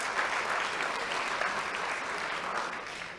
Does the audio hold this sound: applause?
yes